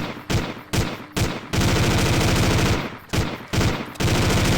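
Machine gun fire in Left 4 Dead 2 from a Combat Arms sound pack, loud close bursts: several short volleys, then a long sustained stream, then two more short bursts and another long one, with no voices.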